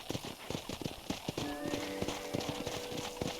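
Horse hooves clip-clop in an uneven walking rhythm in the Western video game Red Dead Redemption, close and crisp, with a brief whinny and faint background ambience.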